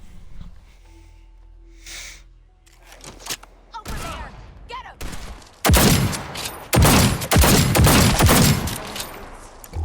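Bursts of gunfire from a gunner enemy in the video game Fallout 4, several loud rapid volleys crowding the second half after quieter game ambience and breathing.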